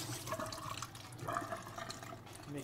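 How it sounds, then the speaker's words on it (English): Hands being washed under a running kitchen tap, a soft continuous stream of water with faint splashing and rubbing, quiet and close, no voices. "let me wash my hands."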